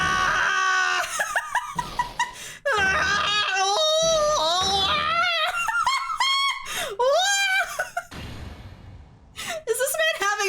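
Von Karma screaming in the courtroom game Phoenix Wright: Ace Attorney, a long string of loud, wavering, strained shrieks and cries with short gaps between them, fairly close and dominant.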